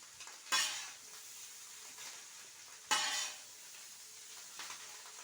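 Chowmein stirred in a frying pan, two loud scraping tosses about two seconds apart over a soft continuous sizzle, close, with a lighter scrape near the end.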